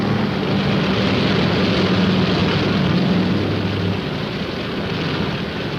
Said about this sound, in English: That helicopter in the background is ditch patrol.